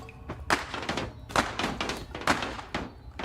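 A video game gun firing nails: three distinct, fairly close thudding shots, evenly spaced about a second apart, each trailing off briefly, with no talk.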